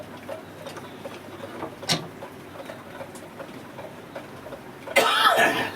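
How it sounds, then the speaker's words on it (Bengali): A single harsh cough bursts out near the end, loud and close, after a quiet stretch with faint background ticks and rustling. "ঠান্ডা লেগে যাওয়ার জন্য কাশি হয়ে গেছে"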